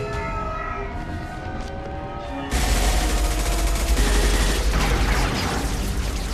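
Gunfire in the video game Mass Effect 2 erupts suddenly after a quieter stretch with a faint tonal, siren-like backdrop, becoming a loud, dense, continuous barrage of rapid shots that holds to the end.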